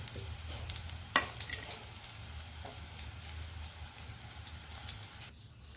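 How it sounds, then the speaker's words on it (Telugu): Chillies fry in hot oil in a pan, giving a soft steady sizzle with a sharp scrape or stir near the start, fairly quiet and without talk. "తీసేసి మళ్ళీ మనం మిరపకాయలు అవి వేగించుకుందామండి"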